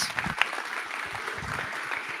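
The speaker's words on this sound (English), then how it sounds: "Round of applause." Audience applause for a speaker at a TechTO tech community event at Rotman, a sustained wash of clapping from a crowd that stays steady across the short stretch, with faint voices underneath.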